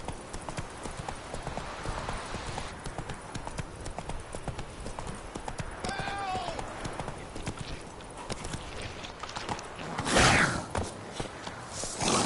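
Hooves clip-clop steadily as a horse runs in The Witcher 3, with a brief whinny partway through and a louder burst near the end, all fairly quiet and without talk.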